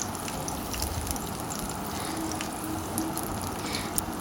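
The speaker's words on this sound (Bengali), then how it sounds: "তো এখানে 4-5টি কাঁচা মরিচও আমি ভেজে নিচ্ছি একই তেলে।" Green chilies fry in mustard oil in a pan over low heat, giving a faint, steady sizzle and crackle throughout with occasional small pops.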